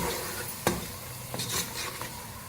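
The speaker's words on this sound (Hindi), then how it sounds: "अब इसको अच्छी तरह से मिक्स करेंगे।" Kadhi masala being stirred and mixed in a pan on the stove, a steady sizzle under scraping spoon strokes with one sharp knock of the utensil against the pan, close up and continuous.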